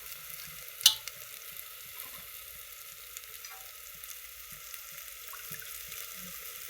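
Chickpeas (chole) frying in roasted masala, a faint steady sizzle with a soft clink early on and light stirring scrapes throughout.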